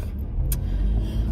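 Inside a moving car, a steady low road and engine rumble fills the cabin, with a brief faint tick partway through and no speech.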